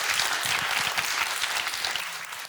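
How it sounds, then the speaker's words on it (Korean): A seated audience at a cultural diversity talk concert claps steadily to welcome a guest lecturer to the stage, a dense, continuous round of applause with no talking over it. "큰 박수 부탁드리겠습니다."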